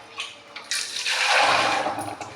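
Water runs and splashes steadily for a couple of seconds, swelling into a fuller gush, with no voices.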